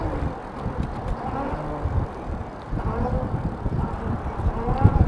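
Strong wind roars steadily into the microphone of a Super73 e-bike rider out on the road, a continuous low buffeting rush that swells and gusts throughout without a break.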